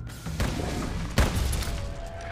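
Heavy Bowgun firing in Monster Hunter Now, a sharp booming shot near the middle standing out over a dense, noisy game soundscape, with softer thuds before and after.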